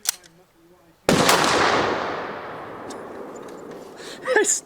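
A single sharp gunshot from a Springfield Prodigy pistol at an outdoor range cracks close and loud, then decays into a long rolling echo; faint voices come before it and someone speaks briefly at the end.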